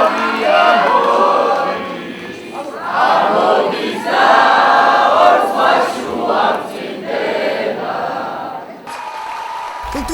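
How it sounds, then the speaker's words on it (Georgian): Rally crowd of National Movement supporters in a packed hall in Zugdidi, cheering and shouting ovations in sustained swelling waves, loud and dense with brief dips between bursts, a short pause near the end. "შეხვედრის დროს დარბაზიდან ისმოდა ოვაციები და შეძახილები"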